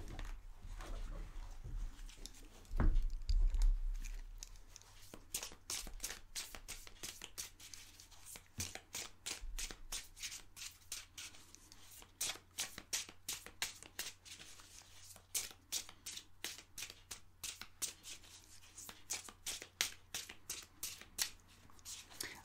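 Oracle cards are shuffled for a card reading: a dense, fast run of soft riffling flicks and papery slaps, close and steady for most of the stretch after a brief thump near the start.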